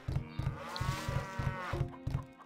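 Cows in the strategy game Stronghold low repeatedly in a steady rhythm, about seven short deep moos in a row, close and clear with no talking over them.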